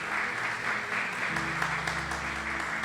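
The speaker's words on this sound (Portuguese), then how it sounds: "Vamos aplaudir Jesus bem forte" A church congregation claps for Jesus at a Wednesday service, a steady wash of applause joined midway by a low sustained organ or keyboard tone.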